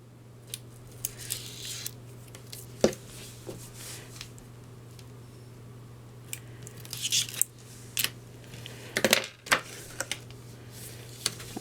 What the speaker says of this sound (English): We need to remove the backing from the tear and tape.